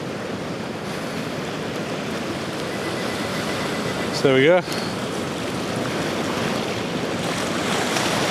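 Sea waves wash and break on the rocky Flamborough coast in a continuous loud surge, with wind buffeting the microphone and a brief spoken remark partway through.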